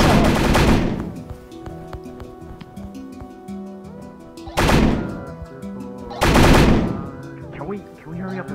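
Loud bursts of video game gunfire from an SCP mod: three dense rapid volleys, each about a second long, separated by a few seconds of quieter game sounds and music.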